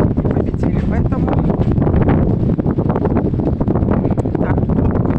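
Steady, blustery wind buffets the microphone with a constant low roar, loud and close throughout.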